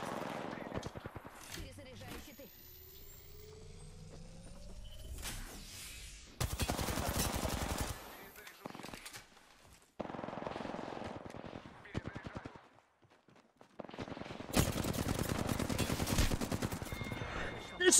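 Gunfire in the video game Apex Legends, with bursts of rapid shots alternating with quieter stretches, heard under someone talking.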